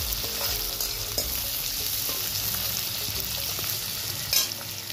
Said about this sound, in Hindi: लाल होने तक हमें प्याज को भून लेना है।